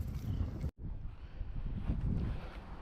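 Strong wind gusts across the microphone outdoors by the water on a fishing outing, a continuous loud rumble broken by one brief dropout, with no voices.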